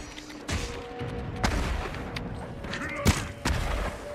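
Gunfire in the samurai game Ghost of Tsushima Legends comes as a few loud booming shots spaced irregularly over a constant game soundscape.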